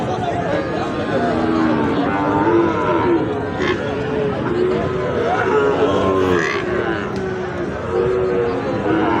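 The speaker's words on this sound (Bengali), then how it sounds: "এখানে একটি অনেক আকর্ষণীয় সাইওয়াল ষাঁড় বাছুর" A Sahiwal bull calf at a busy village cattle market lows loudly and near, its calls blending into a dense, continuous din of other animals and crowd noise.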